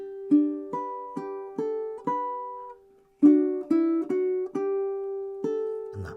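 Measures 37 and 38 of a song ring out on fingerstyle ukulele, plucked notes and chords struck in an even pulse, with a short pause midway before the turnaround resumes, close and unaccompanied.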